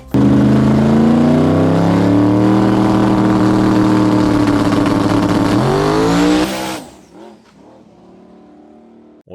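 A Limited Drag Radial race car on a test pass roars loud and steady for about six seconds, its engine note climbing, then cuts off abruptly, leaving faint fading mechanical noise.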